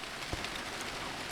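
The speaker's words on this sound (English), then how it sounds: "The rain just started to bucket down while I was recording this." Heavy rain pours down steadily near a moored boat in Pasadena, a dense continuous hiss of drops on surfaces with no voices.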